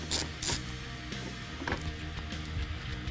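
Torx screws holding the front bumper of a 2013-2016 Ford Focus ST are backed out, giving a close, quiet mechanical ratcheting and clicking for a few seconds.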